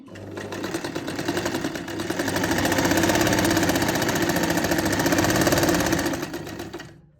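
Sewing machine stitching pleats into a lined shirt, running in a steady, continuous mechanical whir that swells and holds loud throughout, close by, with no talk.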